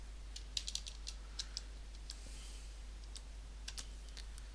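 Keys on a computer keyboard click in a sparse, irregular burst of light taps, faint and close, over a steady low electrical hum with no talking.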